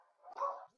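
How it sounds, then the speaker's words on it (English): A single short dog bark sounds once, fairly faint and somewhat distant, with quiet surroundings. "I apologize for the dogs barking,"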